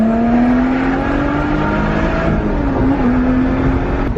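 A Lotus Exige V6 S accelerates hard onto a motorway, its engine a loud steady roar with a rising tone that dips briefly as a gear changes, then climbs again, with no talk over it.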